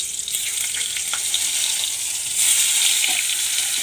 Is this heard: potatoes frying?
yes